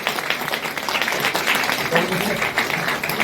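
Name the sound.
applause at Ju Ho-young election campaign launch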